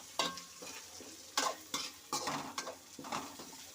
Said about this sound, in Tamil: கருவேப்பிலை சேர்த்துருந்தா கொஞ்சம் மிக்ஸ் பண்ணி விடுங்க.